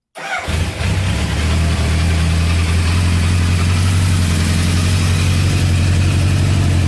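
A 1985 Kawasaki Ninja 900 and a 1986 Honda VF1000R, the Ninja with factory dual exhaust, start up and settle into a steady, close, loud idle with a constant low rumble and no voices.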